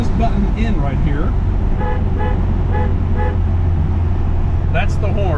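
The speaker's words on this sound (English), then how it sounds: "that's the horn, and that's where a horn is on an MGB GT and on an MGB." Horn of a 1970 MGB GT sounding in several short honks over a steady idling engine, close by and fairly loud.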